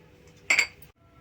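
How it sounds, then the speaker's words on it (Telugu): A cooking pot is set down in a kitchen with a single short metallic clink, bright and close, against near silence. "గిన్నె పెట్టుకున్నాను ఆయిల్ పోసుకోవాలి"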